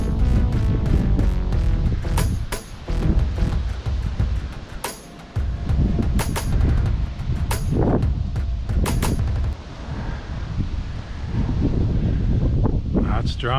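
Gusty monsoon dust storm wind roars across a small city, buffeting the microphone in loud, broadband bursts that rise and fall throughout, with occasional sharp gust thumps.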